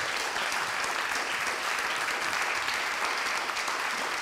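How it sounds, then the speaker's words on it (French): A large audience at a congress applauds continuously, a dense and even wash of clapping heard close and filling the room, with no voices standing out. "qu'on peut applaudir"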